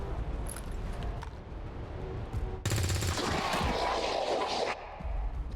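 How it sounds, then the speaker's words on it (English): A weapon fires in XCOM 2, a sudden dense burst of rapid gunfire lasting about two seconds, loud and close, preceded and followed by quieter game ambience. "So let's just fire this weapon."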